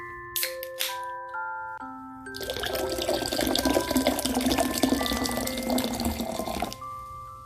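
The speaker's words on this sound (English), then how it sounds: "When it is ready to serve, we're going to add the lemon lime soda." Lemon lime soda poured into a Halloween witch's brew drink, a steady fizzing, splashing pour that builds for several seconds and then stops, with a few bright clinks before it begins.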